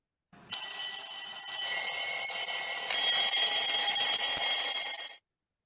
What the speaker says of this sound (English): What was that sound? It was an alarm clock.